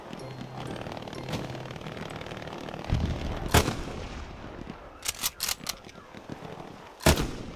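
Gunfire in the World War II shooter Hell Let Loose: a lone sharp shot, a quick burst of several shots, then another loud single crack, all against a quiet background.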